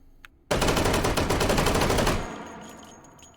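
In the game H3VR, a stocked 1911 pistol fires on full auto: a loud, rapid burst of about twenty shots in under two seconds, then a fading echo and a faint whine.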